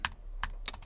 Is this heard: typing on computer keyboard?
yes